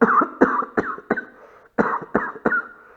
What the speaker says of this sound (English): And I can also do a cough test